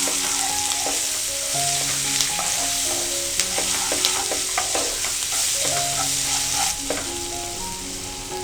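A tadka of curry leaves, chillies and turmeric sizzles steadily in hot oil while a spoon stirs it, with scraping clicks and a constant bright crackle throughout; no voices.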